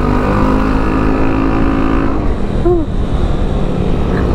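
An upgraded Yamaha XMAX Connected scooter with a Veloscope fitted pulls away hard, a loud, steady engine drone that shifts pitch briefly midway, heard close while riding.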